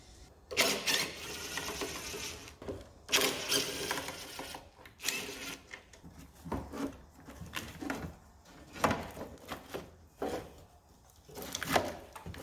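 A ratchet working on 10mm bolts at the battery tray of a Dodge Nitro, with bursts of rapid clicking and clunking metal handling repeated over several seconds, close and moderately loud, with no talking.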